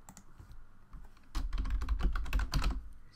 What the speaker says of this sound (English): So we can just type up Geekbench.